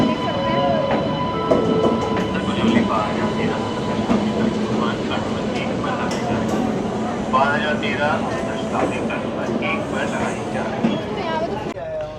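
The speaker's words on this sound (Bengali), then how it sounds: "এই ঢুকছে আমাদের ট্রেন" The New Delhi to Sealdah Rajdhani Express, hauled by a WAP-4 electric locomotive, rumbles and clatters into a station, its wheels grinding and squealing, while people talk and announcements echo faintly in the background.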